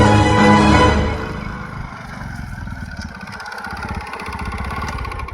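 A motorcycle engine idles steadily nearby, a loud opening swell settling into an even, continuous chug with no talking.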